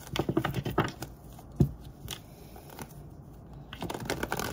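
Tarot cards are shuffled in close, quick bursts of papery flicks and riffles, with a sharper tap partway through and a renewed flurry at the end.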